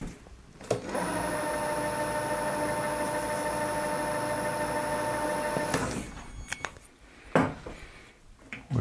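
A lathe threading a part with a freshly ground tool insert runs with a steady whine and a grinding hum for about five seconds, then spins down and leaves scattered clanks and shop noise.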